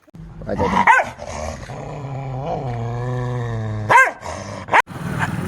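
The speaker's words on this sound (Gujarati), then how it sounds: "આ ગામના કૂતરા બહુ ડેન્જર છે." Village dogs bark and growl close by, with a drawn-out rumbling snarl between a few sharp, loud barks.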